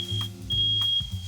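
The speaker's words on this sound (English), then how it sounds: "Smoke alarm." A kitchen smoke alarm sounds a high, piercing steady tone as smoke rises from a hot pan, loud and close, layered over low rhythmic background music.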